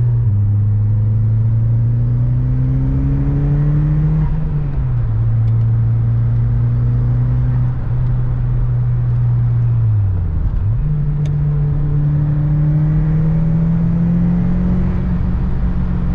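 Ford Escort RS Cosworth turbo engine accelerating through the gears, heard from inside the car: a loud steady drone climbs in pitch, drops at two shifts, then climbs again.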